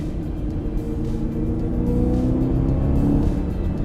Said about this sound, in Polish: I ten dźwięk silnika V8 jeszcze dodatkowo z... wzmocniony tym wydechem nieseryjnym.